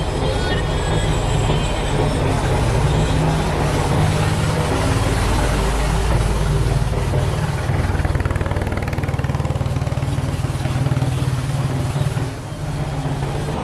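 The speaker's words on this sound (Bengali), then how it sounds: "এরকম ছোট ছোট ট্রলার এলেই এই ডিঙ্গি নৌকাগুলো চমৎকার ভাবে দুলতে থাকে।" A small trawler boat's engine drones steadily and loudly at close range, a continuous low mechanical rumble on the water with no pauses throughout.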